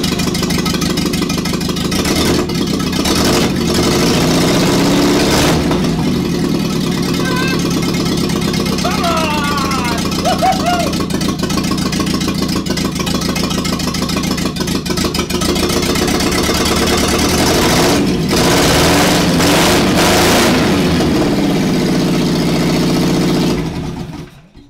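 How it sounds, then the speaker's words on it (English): A Stimson Mini Bug engine runs steadily at idle, loud and close, holding a continuous mid-pitched drone with some rising and falling revs throughout. "Okay, so the engine is running."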